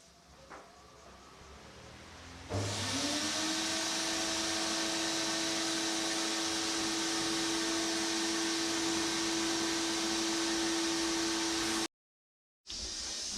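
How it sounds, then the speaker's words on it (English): Steady loud roar of a dry blasting cabinet running after a quieter start, with a constant hum and broad hiss as abrasive strips the coating off old motorcycle parts, then a sudden cutoff near the end. "we'll just chuck that in there in the dry blasting cabinet and knock the outer layer of that off"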